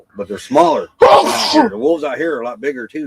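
One sharp, loud sneeze bursts out in the middle of a man's conversational speech, briefly overpowering his voice before the talking resumes.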